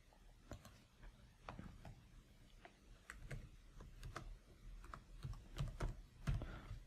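Soft, close keystrokes on a computer keyboard as a name is typed into a form, a steady scatter of quiet clicks and taps with no talking.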